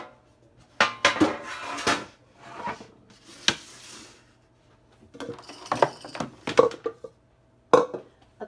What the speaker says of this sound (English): I'm going to get 3 baking sheets.